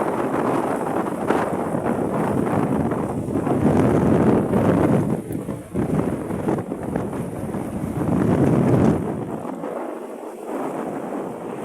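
Gusty wind rumbles and buffets the microphone in loud surges that rise and ease over several seconds, with no talking.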